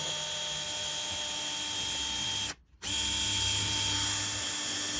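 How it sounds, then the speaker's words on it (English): A power drill whines steadily at close range, drilling a hole into the side of a boat, cutting out briefly partway through and then resuming at full speed. "Now we're gonna drill a hole into the side of the boat."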